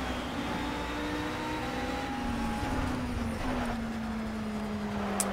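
LMP1 prototype race car in the Project CARS racing game during a wet endurance race, a continuous engine drone shifting through gear changes with a faster car's engine note merging in as it passes, no speech.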